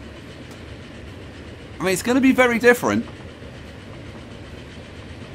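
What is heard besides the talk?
trains running in video game Transport Fever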